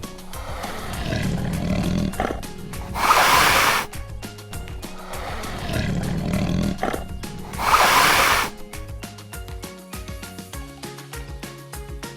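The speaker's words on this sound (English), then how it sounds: "That powerful sound belongs to a tiger." Two powerful tiger roars, each a long, loud rumbling growl building to a harsh peak, separated by a pause and set over background music.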